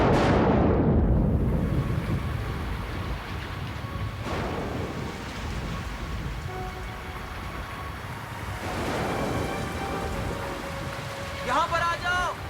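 Heavy rain pouring in a spooky horror-story scene, a broad rushing wash with rumbling low end, loud at first and easing slightly, with brief voice-like and tonal sounds drifting over it.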